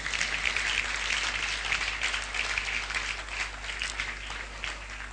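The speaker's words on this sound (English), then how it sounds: "Indomie deserves a resounding round of applause." A faint, distant round of applause at an awards event for instant noodles, steady and even across the whole stretch.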